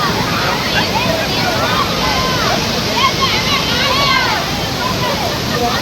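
Palaruvi waterfall, water plunging about 300 feet, gives a loud, constant rushing roar that fills the scene without a break.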